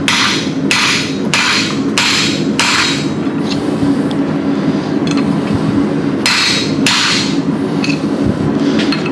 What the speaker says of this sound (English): Whenever I'm stretching out a hole like this, I always try to make sure I alternate sides with my tapered punch.